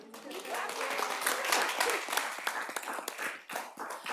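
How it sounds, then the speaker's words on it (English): An audience at a school district meeting claps for Barron Park Elementary School, producing a few seconds of scattered, moderately loud applause with voices speaking over it. "It's okay if you want to clap for them."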